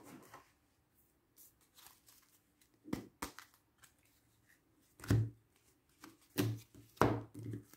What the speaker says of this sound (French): Je coupe les cartes.